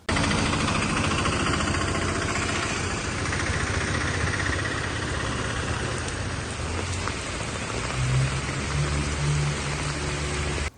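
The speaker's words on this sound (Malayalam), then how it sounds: "ഒറ്റപ്പാലം മേഖലയിൽ അതിശക്തമായ മഴ" Heavy rain pours in Ottapalam, a loud steady roar of rain on surfaces with a low engine rumble running underneath.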